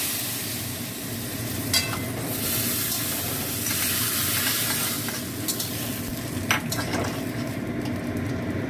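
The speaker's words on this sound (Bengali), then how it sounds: "এটা আমার হয়ে গেছে, আমি ফোড়নটা এর মধ্যে দেবো।" Spices for tempering hit hot oil in a pan with a steady, close sizzle and crackle that runs throughout, with a few sharper clinks and scrapes, no talking.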